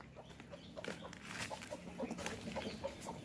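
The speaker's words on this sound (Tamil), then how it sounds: "இப்போ கோழியும் சேவலும் அங்கே இருக்கு" Hens and a rooster cluck nearby at a faint level, a string of short irregular clucks over a soft outdoor background.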